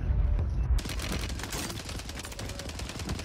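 Gunfire crackles in the Call of Duty Warzone video game: a rapid, continuous run of distant-sounding shots over a steady noisy backdrop.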